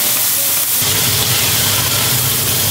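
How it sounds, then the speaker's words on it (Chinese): Mantis shrimp deep-frying in a wok of hot oil after crabs, a steady dense sizzle and hiss with bubbling, close and continuous throughout with no talk. "把皮皮虾炸好"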